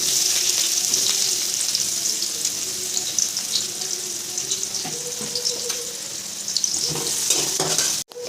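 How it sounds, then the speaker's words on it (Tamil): Onions sautéing in a pan until golden for a Tamil chicken feet dish give a steady, close hiss of frying oil, with faint scrapes of stirring throughout and a brief dropout near the end. "நம்ம வந்து இந்த வெங்காயத்தை போட்டு நல்லா வந்து பொன்னிறமாக வர வரைக்கும் வந்து வதக்கிக்கலாம்."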